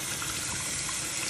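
Tap water runs steadily into a sink as tie-dyed fabric is rinsed, a close, even hiss throughout with no voices.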